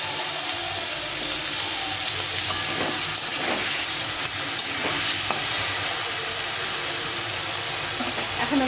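Pumpkin frying with ginger and green chili paste, a loud, dense sizzle throughout with soft scraping strokes as it is stirred, no talking.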